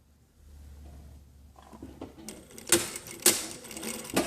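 A sewing machine stitches down a jacket collar, starting after a quiet pause and running in short, rhythmic bursts that grow louder, with a few sharper clacks near the end.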